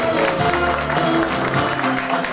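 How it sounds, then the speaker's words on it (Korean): Guests at a first birthday party in a wedding hall give warm applause, a dense burst of clapping with a few voices mixed in over a low background hum. "우리 엄마 아빠한테 뜨거운 박수 부탁드리겠습니다"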